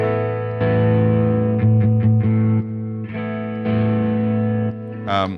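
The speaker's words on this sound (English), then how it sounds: "And you engage the boost, you can hear the volume increase." An electric guitar rings out sustained chords, with the volume jumping up as a boost kicks in; a brief pick scrape at the end.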